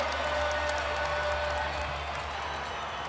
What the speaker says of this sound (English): That woke up the crowd.